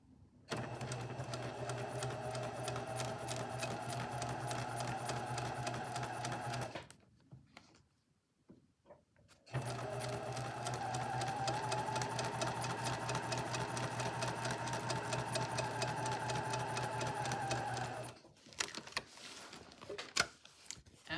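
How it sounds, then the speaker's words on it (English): Sewing machine stitching quilt pieces along a drawn line, a steady close whirring hum with fast needle ticking in two long runs separated by a brief pause, no talking. "I'm going to stitch on my drawn line."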